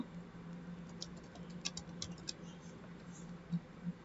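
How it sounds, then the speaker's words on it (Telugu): Keys on a computer keyboard are tapped while a name is entered with a text tool in Premiere Pro, producing faint, sparse clicks over a low, steady hum in a quiet room. "ఇంకొక పేరుని అయితే టైప్ చేస్తున్నాను."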